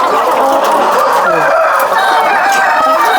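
Country chickens cluck busily inside a wire cage on a farm, several birds chattering together close by in a continuous, dense flock noise with no talking.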